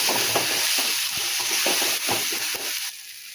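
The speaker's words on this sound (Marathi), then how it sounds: "मिक्स करून घ्यायचं." Ground turmeric and Kashmiri red chili powder get stirred into a frying pea curry in the Konkani style. A spoon scrapes the pan in quick repeated strokes over a soft sizzle, and the stirring stops near the end.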